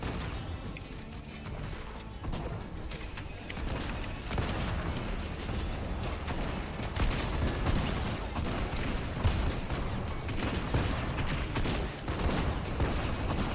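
Gunfire in Fortnite, a dense continuous crackle of rapid shots with mechanical clicking and clatter, loud and steady throughout with no talk.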